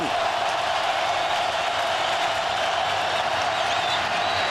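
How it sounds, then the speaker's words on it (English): Football stadium crowd at a 2006 Bengals at Saints game, a steady, dense roar swelling on a third down, loud and continuous with no break. "Crowd raises its collective voice on 3rd down and 7."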